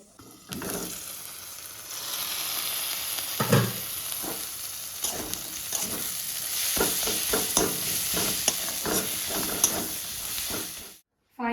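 Dried fish bharta cooks in a wok with a loud, continuous hissing sizzle. Repeated scraping and clattering strokes from stirring and mashing run through it, and the sound cuts off abruptly at the end.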